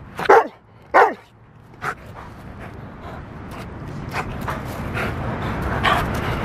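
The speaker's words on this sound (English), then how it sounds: "That crazy dog." A dog lets out two loud, sharp barks close by, then a fainter yip, followed by softer scattered yelps against a rising rustle of background noise.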